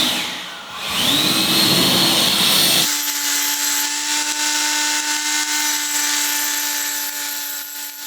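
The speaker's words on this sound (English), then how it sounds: "I decided to use the angle grinder with a concrete disc and roughen up the area very gently." An angle grinder fitted with a concrete disc roughens a concrete wall, first revving up with a rising whine, then settling into a steady loud grinding drone with a constant high tone that lasts throughout.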